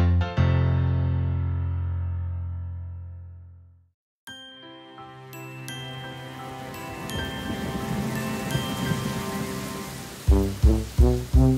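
After a deep chime fades to silence, soft rain pours steadily as a sound effect in a children's nursery song, building gently beneath twinkling bell tones before bouncy musical notes begin.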